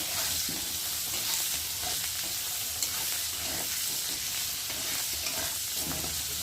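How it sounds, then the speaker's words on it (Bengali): Ginger paste, cumin paste, tomato, turmeric and chili powder masala fry in a pan for dalia khichuri, a steady close sizzle with repeated stirring scrapes and no talk. "এখানটা আদা বাটা জিরে বাটা টমেটো হলুদ লঙ্কা গুঁড়ো সব রকম মশলা দিয়ে নিয়েছি ভালো করে মশলাটা কষিয়ে নেব"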